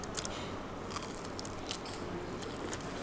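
Biting and chewing a cornflake-coated fried prawn at a Punjabi restaurant in Kolkata, with close crunchy mouth noises, faint crackles and occasional sharp snaps over steady background room noise, no talking.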